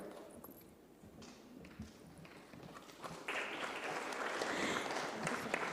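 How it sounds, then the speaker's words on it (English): Applause from a crowd at a presentation ceremony builds and swells into steady, dense clapping that fills the room, with faint background murmur underneath. "Ladies and gentlemen, huge round of applause"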